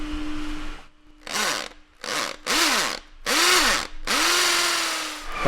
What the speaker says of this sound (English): So we're going to drill down.